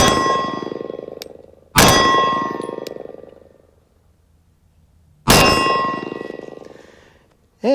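Shots fired with DHS duty pistol ammunition from 15 yards, three sharp metallic reports ringing out with long decaying tails, spaced a few seconds apart, loud and close.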